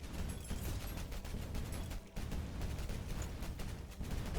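Dense, continuous crackling blasts like a fireworks finale in the video game Tower of Babel: Survivors of Chaos, a steady barrage of overlapping explosions at moderate level with no talking.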